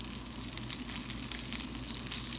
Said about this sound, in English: if you saute the spinach the way we're doing it right now